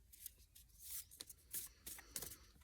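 Playing cards being shuffled for a tarot-style reading in snowy woods, a quick run of riffling and rubbing bursts at close range, faint and uneven.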